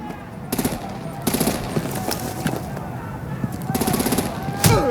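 Rapid machine-gun bursts and artillery fire in Batman: The Telltale Series, loud clattering volleys in several separate bursts, set against a rumbling battle background.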